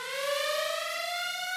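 An alarm sound effect, a steady siren-like tone with rich harmonics, holds continuously and loudly with a slight upward drift and no voices.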